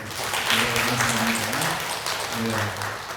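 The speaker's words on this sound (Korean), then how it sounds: "박수로 감사합니다" A Korean church congregation claps to welcome a newly registered member at Sunday service, moderate applause running under a voice speaking throughout.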